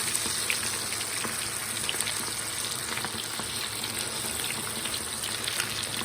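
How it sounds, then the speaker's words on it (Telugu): Chicken pieces deep-frying in hot oil give a dense, steady crackling sizzle like heavy rain, close and continuous throughout, with no voices. "మనం డీప్ ఫ్రై పెట్టిన ఆయిల్ కాగిపోయింది ఇప్పుడు మనం ఒక్కొక్క పీస్గా వేసుకుందాం"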